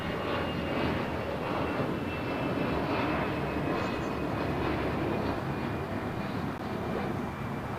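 A Delta Airbus A319 jet takes off at LAX, its engines giving a steady, loud broadband roar that holds at an even level the whole time, with no talk over it.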